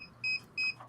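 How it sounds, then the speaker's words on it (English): Two short, clear electronic beeps from a call participant's device sound in quick succession, faint and thin against a quiet background. "I think Bill is beeping."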